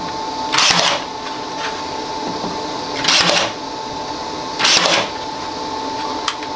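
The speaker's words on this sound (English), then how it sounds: "I think for this one I'm just going to tack it down with a pin nailer" A pin nailer tacks down a wooden workpiece in a workshop: three sharp, hissing pneumatic bursts spaced about two seconds apart, close and crisp over a steady background hum.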